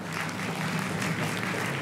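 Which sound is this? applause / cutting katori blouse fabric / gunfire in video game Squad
applause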